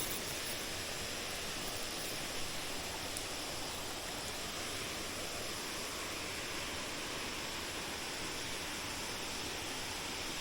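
Water rushing over a spillway, a steady, dense roar of falling water that fills the whole clip evenly and close, with no other sounds standing out.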